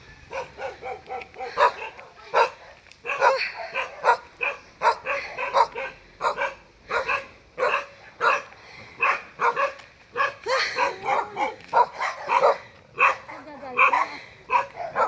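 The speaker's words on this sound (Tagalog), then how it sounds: "daming aso." Several dogs bark repeatedly in quick, overlapping volleys on a mountain climb to White Rock Culasisi, with some yips mixed in, fairly close and continuous throughout.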